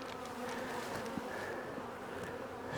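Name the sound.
honey bees buzzing around an overturned hive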